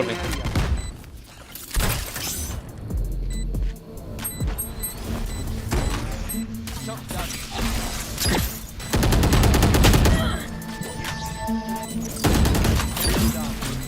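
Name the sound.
gunfire from the video game Valorant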